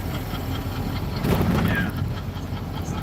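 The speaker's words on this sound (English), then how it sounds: "So what you're hearing right now is the piston in the cylinder literally just slapping around." A Porsche twin-turbo V8 idling with piston slap gives a rough, low rumbling idle with a brief louder swell partway through, close by and continuous.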